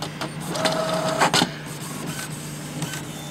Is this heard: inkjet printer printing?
yes